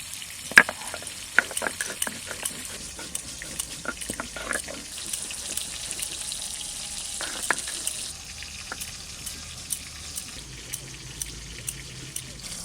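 Sea para fish frying in hot oil in a home kitchen pan, a steady bubbling sizzle with irregular scraping clicks of a spatula stirring, close and moderately loud, without talk.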